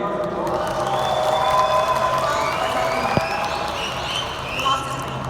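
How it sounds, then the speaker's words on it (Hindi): A large audience claps and cheers at a Daraz e-commerce summit in Lahore, a dense, steady wash of crowd noise lasting throughout with a brief sharp knock near the middle. "जरा शोर मचा के और तालियां बजा के बताइएगा"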